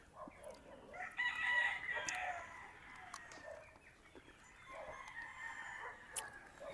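A rooster crows clearly at mid distance, with softer clucking and other fowl sounds scattered around it.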